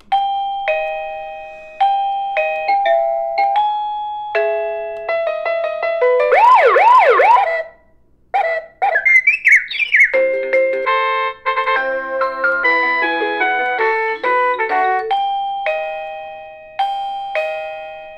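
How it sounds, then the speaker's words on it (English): An ERA wireless doorbell receiver cycles through its chime melodies, playing a loud series of bright electronic tunes one after another with short pauses between them and no talking. "now I'm going to toggle or scroll through the available melodies hitting the volume button"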